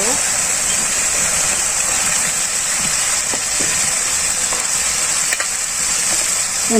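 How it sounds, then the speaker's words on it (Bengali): Meat dropped into hot oil with cooked-down spice masala, fried in a Bangladeshi village kitchen; a steady, loud broadband sizzle runs throughout with occasional stirring clicks. "এই মশলার মধ্যে আমি মাংসগুলো ছাড় দিয়ে দিই"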